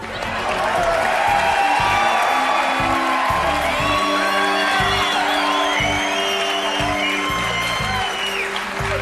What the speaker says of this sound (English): You heard the cheer.